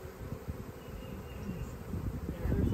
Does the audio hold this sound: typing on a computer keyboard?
no